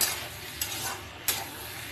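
Malabar spinach (pui shak) sautés in a pan, with a steady hissing sizzle broken by a couple of sharp scraping stirs of a spatula; close and moderately loud, with no voices.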